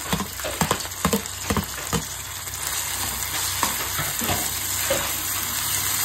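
Two small chopped tomatoes drop into a hot frying pan with a burst of clattering taps, then settle into a loud, steady sizzle and crackle of frying, close by. No voices.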